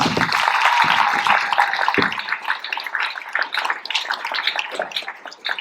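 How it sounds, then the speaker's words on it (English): Sustained applause from a banquet audience fills the room, dense clapping holding steady for several seconds before gradually thinning, with no voices over it. "Let's give her one more round of applause"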